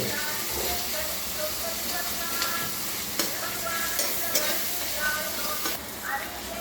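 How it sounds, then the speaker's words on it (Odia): Onions sizzle steadily in hot oil while being stirred with occasional scraping clatters, a continuous fizzing fry heard close up as part of cooking a country crab curry. "ନାଇଁ ପିଆଜ ଲାଲ ପକାଇବେ, ଲାଲ ନ ପଡ଼ିଲେ ଗୋଟେ ଭଲ ଲାଗିବ, ଟେଷ୍ଟ ଆସିବ"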